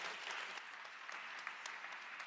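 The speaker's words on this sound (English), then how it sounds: "clap your hands like you really agree with that." An audience claps together in dense, steady applause that stays fairly even and sustained, with many hands blending into a continuous wash of sound and no talking over it.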